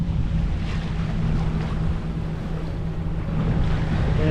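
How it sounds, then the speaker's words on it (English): A sailboat under head sail alone runs downwind in a breeze, with constant wind buffeting the microphone over the rush of water and waves against the hull; no speech. "It's pretty breezy, or nice sail, just downwind. I just have the head sail up."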